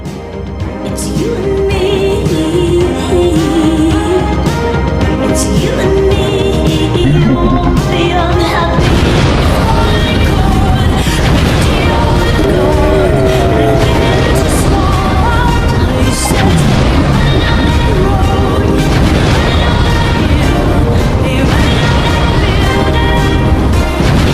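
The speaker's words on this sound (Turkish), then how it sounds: "elinde ne kadar bomba varsa hepsini koy" Bombs explode in a loud, dense run of booms and crashes over a rumbling mix with music, coming in heavy bursts that go on for the whole stretch.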